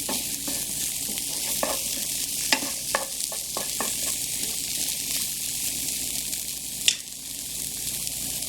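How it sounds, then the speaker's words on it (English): Flour cooks in a pan for an Italian sausage and cheese dip, giving a steady soft sizzle with scattered scraping taps of a utensil stirring through it, close by and without talk. "Let me make sure the flour cooks a little bit more."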